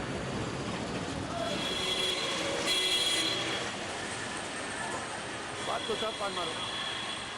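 Trains run on rails during fog-related delays, giving a steady rumble with wheel squeal. A voice talks over the noise throughout.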